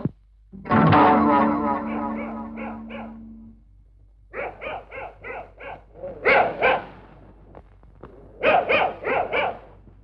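A dog barking in a Malayalam comedy scene, processed with a distorted, echoing effect: one long howling bark, then several bursts of quick, loud barks in uneven groups, with no other sound between.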